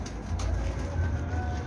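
Pigeons cooing close by, a soft low throaty murmur of repeated coos over a short stretch, with no talking.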